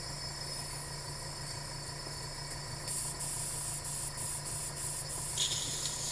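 An airbrush sprays craft paint and cleaner through its nozzle, a steady close hiss that brightens into sharper bursts partway through and ends in a louder spurt near the close.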